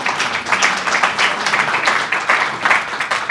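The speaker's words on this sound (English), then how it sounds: "Clap for him, please." Audience applause fills a presentation hall at an ICC event in Africa, a steady wash of many hands clapping at moderate loudness for a few seconds with no talk over it.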